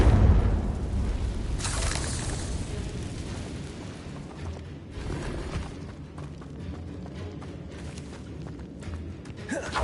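A fiery blast from the Confringo spell in Hogwarts Legacy bursts with a deep boom at the start, then a second sharp burst follows, trailing into crackling, rumbling debris and lingering fire noise.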